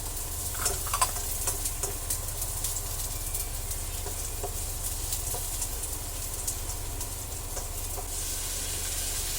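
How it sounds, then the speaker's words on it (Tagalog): Garlic sautéing in a pan gives a steady close sizzle, with clinks and scrapes of stirring scattered through it. "isunod na rin po natin ang bawang. Gisa po natin ng maigi."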